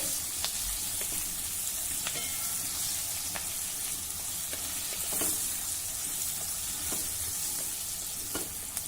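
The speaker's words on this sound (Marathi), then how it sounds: "आता मध्यम आचेवर ह्या मिरच्या आपल्याला जरा परतून घ्यायच्या आहेत" Green chillies sauté on a hot tava over medium heat, giving a steady, close broadband sizzle with faint crackles throughout and no talk.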